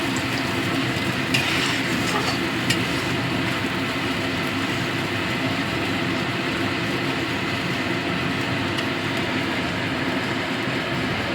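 Spices being sautéed in oil for vegetarian aloo dum, a steady dense sizzle throughout at close range with a couple of faint clinks, no talking.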